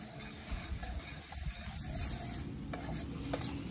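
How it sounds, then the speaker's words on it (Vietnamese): A utensil stirring condensed milk into eggs in a bowl, a steady close scraping and rubbing rhythm with a few light clinks. "Khuấy nhẹ sữa đặc với trứng nhé."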